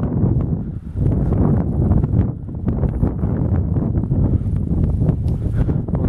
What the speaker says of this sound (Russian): очень сильный ветер.